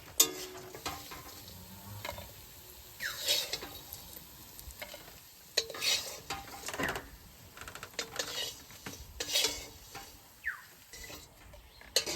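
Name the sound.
fish frying crisp in oil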